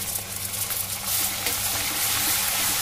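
Onion paste sizzles steadily in a hot pan for a Bengali katla fish kalia, with a dense continuous hiss that swells slightly partway through, close and loud, with no voices.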